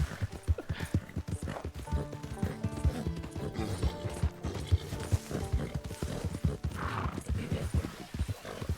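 Horse hooves clip-clop in Red Dead Redemption, a steady, loud run of hoofbeats lasting the whole stretch, with occasional whinnies and game sounds layered underneath.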